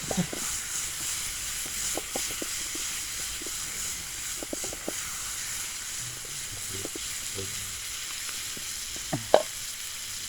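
Field grasshoppers frying in a shallow layer of oil give a steady, fairly quiet sizzle with occasional soft stirring knocks and one sharper clatter near the end, and no voices.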